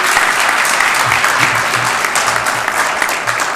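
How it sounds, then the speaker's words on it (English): An audience at a Somerville, Massachusetts infrastructure grant event gives sustained, loud applause, a dense even clatter of clapping hands with no speech over it. "I want to give you a round of applause"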